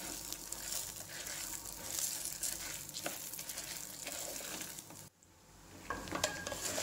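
Toor dal and fenugreek seeds fry in a pan over medium flame, a steady close sizzle with scraping and stirring, briefly dropping out for a moment before crackling resumes.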